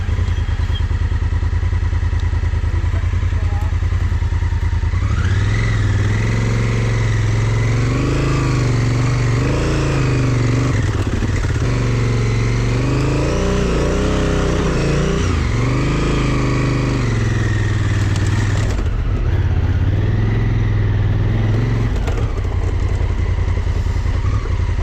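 A motorcycle rides a loop past the listener: a loud, steady engine drone swells with repeated revving and acceleration, clattering mechanical noise underneath, then eases near the end.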